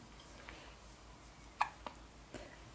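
A baby hiccups a few times, soft and close, as short sharp catches in a quiet room with no talk.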